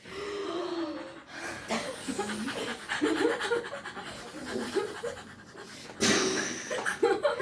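Young students inhale and exhale audibly in a group, with overlapping panting breaths, sniffs and a few laughs, fairly close and continuous.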